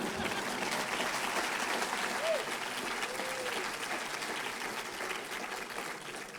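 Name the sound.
audience applause at awards event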